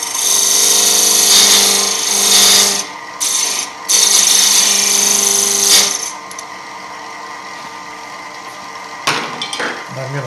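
A woodturning lathe cuts into a spinning wood piece to relieve its back, giving a loud continuous scraping and whirring that steadies, dips briefly, then eases off to a quieter hum with a few sharp scrapes.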